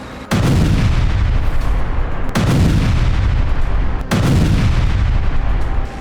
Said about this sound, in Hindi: एक के पीछे एक चलते हुए टैंक गाजा की सीमा में दाखिल हुए और हमास के ठिकानों पर जमकर गोले बरसाए।